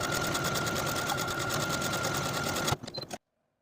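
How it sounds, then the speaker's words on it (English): Steady, fast mechanical whirring of a sewing machine stitching a buttonhole into a fabric tab for a wrap skirt, running evenly close up before stopping abruptly. "we're going to sew a buttonhole into the tab according to the markings from your pattern piece"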